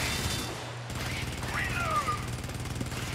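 Turret gunfire in the Helldivers video game, a dense, continuous rattle of shots under game noise, with a pause near the start and brief whistling streaks midway.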